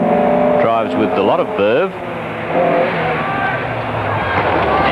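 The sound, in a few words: rally car driving a hill climb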